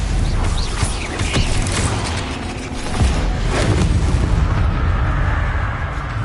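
Fire and blasting spell explosions, Confringo and Bombarda, in Hogwarts Legacy: loud continuous rumbling impacts and crackling bursts with a heavier thump midway, fading toward the end.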